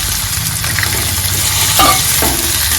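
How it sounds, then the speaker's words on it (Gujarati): Washed peanuts frying in hot oil, a loud dense crackling sizzle held steady throughout, with a couple of faint clinks from a utensil, close up and no voices. "આપણે તેલમાં સિંગદાણા પણ હોતા નાખી દેવાના છે"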